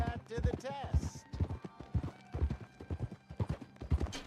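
Horse hooves clip-clop in an even rhythm in Red Dead Redemption 2 while someone talks over them, the footfalls steady and moderately close.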